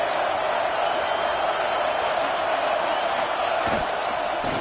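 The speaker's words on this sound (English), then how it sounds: "this crowd trying to help this defense rise to the occasion" A college football stadium crowd roaring on a fourth-down defensive stand, a loud, dense, sustained wash of cheering and noise that fills the whole stretch with no break.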